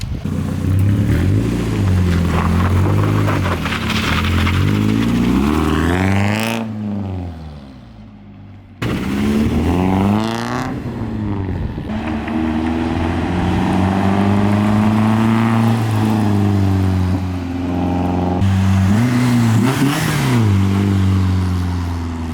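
A 240 car with a custom AutoZone blast pipe exhaust revs and rises in pitch as it passes, raspy exhaust rumbling, dropping briefly, then accelerating again, loud and close.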